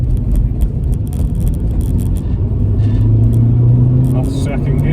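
A Saab NG900 Turbo Coupe accelerates on an open road, with a steady loud engine drone and road rumble heard from inside the car, and the pitch climbs toward the end as the revs rise.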